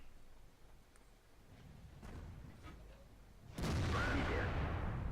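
Heavy boom of a tank gun firing in a tank video game, the SU-122-44, bursting loud at about three and a half seconds and rumbling on, with fainter distant shots and battle noise before it.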